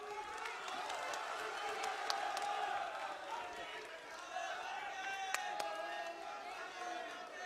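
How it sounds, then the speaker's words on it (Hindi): A crowd at a constitution honour conference in Panchkula, Haryana claps and cheers to welcome a guest, a steady dense wash of applause with scattered whoops and sharp claps throughout. "राहुल जी का जोरदार तालियों के साथ अभिनंदन।"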